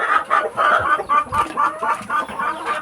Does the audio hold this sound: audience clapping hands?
no